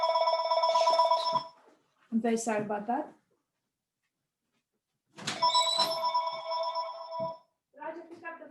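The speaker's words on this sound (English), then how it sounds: "pick up the phone" Desk telephone ringing in bursts during a math lecture, its harmonic trills sounding twice with a pause between, loud and close, with a man's apology spoken in between.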